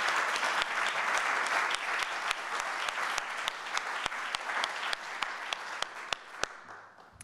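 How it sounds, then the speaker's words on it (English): An audience at a journalism medal presentation applauds Dean Wickham, a steady sustained clapping from a moderate crowd with a few sharp, distinct claps standing out. It thins and fades toward the end. "let's give Dean Wickham a round of applause"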